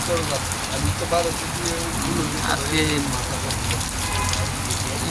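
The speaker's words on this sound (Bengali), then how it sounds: "সকালবেলার পর থেকে বৃষ্টি হচ্ছে, ভালো বৃষ্টি হচ্ছে।" Steady rain patters and hisses throughout while someone speaks briefly over the downpour.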